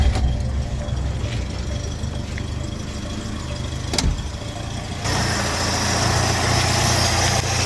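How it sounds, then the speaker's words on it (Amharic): A 1999 Hyundai Atos engine idles steadily and fairly loud at close range, a continuous low rumble with a brief knock near the middle and a slightly fuller hum toward the end. "እንደምትሰሙት ሞተሩ ተነስቷል።"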